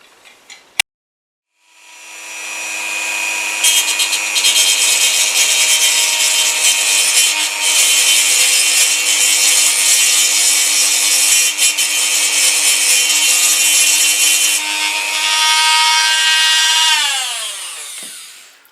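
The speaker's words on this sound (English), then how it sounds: "I'm going to use the ball grinder on my Dremel to make an indentation in here" A small Dremel rotary tool with a ball grinder bit whines up to speed, then grinds steadily against a metal rivet on a die-cast toy car transporter with a high, rasping scream for about fifteen seconds before spinning down, close and loud.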